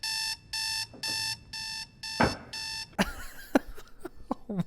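An alarm clock in a film rings in six evenly spaced electronic beeping bursts, followed by sharp clatters and knocks, with no talking.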